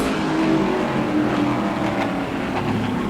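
A super late model race car runs a qualifying lap at Auburndale, its engine a loud, continuous roar that holds steady throughout, with no talk over it.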